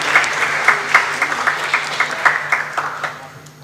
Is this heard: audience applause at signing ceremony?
yes